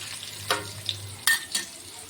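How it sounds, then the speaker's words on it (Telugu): Fenugreek seeds, urad dal, chana dal and hing fry in hot oil for a tempering, giving faint sizzling with a few sharp crackles and pops over a quiet background. "పోపు ఈ విధంగా వేగుతుంది."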